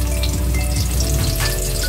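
Garlic frying in a pan for crispy tokwa con carne, a steady dense sizzle and crackle of hot oil running loudly throughout with no talking.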